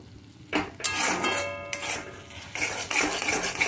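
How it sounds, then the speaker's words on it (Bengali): Spoon scraping and stirring beetroot and carrot kachori filling in a pan over a raised flame, a close series of irregular metallic scrapes and rubbing strokes with short pauses between them. "গ্যাসের ফ্লেমটা একটু বাড়িয়েই নাড়ছি, যাতে জল না বেরোয় আর যাতে পুরটা নরম না হয়ে যায়।"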